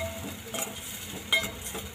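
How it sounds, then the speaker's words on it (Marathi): Onion-garlic masala and coriander powder being sautéed in oil, with a steady low sizzle and soft stirring scrapes, a sharper clink near the middle, no voices. "आता आपण हे सगळे परतून घेऊया।"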